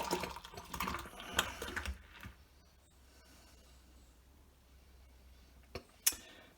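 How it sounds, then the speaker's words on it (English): Nitro stout gushes hard from an upturned bottle into a Homer Simpson mug, a close fizzing, splashing pour for about two seconds, then quiet settling with a few faint clinks near the end. "It says flip it and pour it hard."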